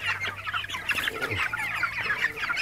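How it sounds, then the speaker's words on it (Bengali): Broiler chickens on a contract poultry farm cluck and chatter continuously at close range, a dense flock of overlapping bird calls with no talk over them. "এই যে একটা মুরগি"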